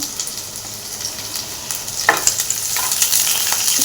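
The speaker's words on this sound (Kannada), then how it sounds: "ಚೆನ್ನಾಗಿ ಚೆನ್ನಾಗಿ ಗೋಲ್ಡನ್ ಬ್ರೌನ್ ಬರೋವರೆಗೂ ಫ್ರೈ ಮಾಡ್ಕೋಬೇಕು" Chopped onion fries in oil in a pan on a low gas flame for paneer keema, a loud, steady sizzle broken by scraping stirs, with no one speaking.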